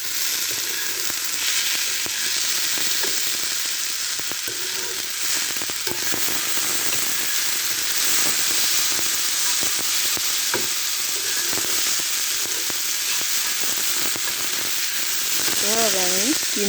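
Khichuri rice frying and being stirred in a hot pan, giving a steady, dense sizzle with scraping stir strokes throughout, close and continuous, with a brief bit of background voice near the end.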